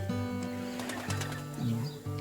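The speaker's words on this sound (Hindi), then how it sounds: "उर्दू में फाख्ता और पंजाबी में कूगी।" Dove calling in a garden near a palm oil plantation in Malaysia, soft low cooing notes over a steady hum, faint and brief.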